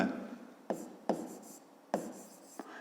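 A pen or pencil writes out a fifth-grade maths solution on paper, with soft close scratchy strokes in several short bursts separated by pauses, heard alone and quiet.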